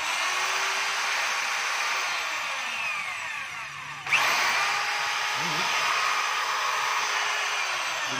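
A DeWalt DW566 rotary hammer drill runs steadily under test with a loud whining motor, briefly cut and restarted about halfway, with a little background talk.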